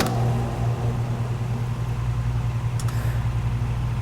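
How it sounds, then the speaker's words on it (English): The blast motor fan of an IMPACTS S270E 75R blaster spins with a steady, even mechanical hum that holds constant throughout, with no talking. "We check our rotation by watching the fan inside the blast motor spin."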